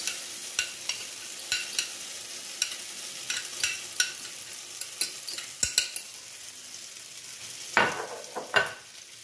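Tomato sauce poured over sucuk sizzling in a frying pan, giving a soft, steady crackle with scattered sharp pops and a few louder clinks near the end, close and quiet, with no talk.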